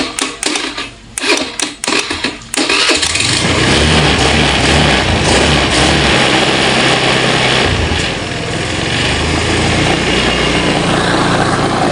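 A Honda Scoopy scooter gets a few sharp clicks and starter cranks, then its small engine fires and settles into a loud, steady, high-pitched idle close by for the rest of the clip, no talking.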